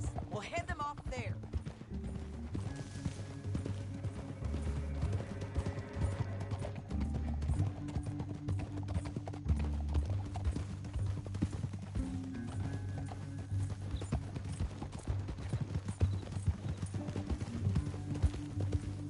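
Horse hooves clip-clop steadily in the Red Dead Redemption 2 video game, a continuous rhythmic trot at a moderate distance, mixed with low background music and game ambience.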